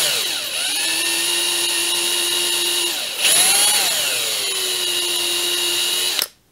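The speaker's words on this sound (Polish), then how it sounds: "Użyję cienkiego wiertła 2 mm i delikatnie nawiercę" A thin 2 mm drill bit bores into a casting mold for lead figures, giving a steady, loud high-pitched power-drill whine that shifts pitch as the bit bites and briefly strains midway before cutting off.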